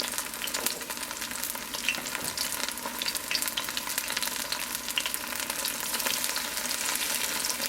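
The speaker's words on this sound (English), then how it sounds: "And you fry this until it gets brown." Oyster mushroom vegan fish cakes fry in an iron pan, giving a loud, steady sizzle and crackle up close, with faint scraping as they are pressed flat, and nobody speaking.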